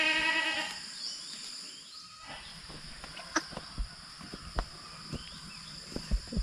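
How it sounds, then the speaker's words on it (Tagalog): A goat left behind on a farm bleats in one long, loud, wavering cry up close, then the scene settles into quieter rustling, crickets and a few soft knocks. "Umiyak yung kambing na iniwanan ni Martis."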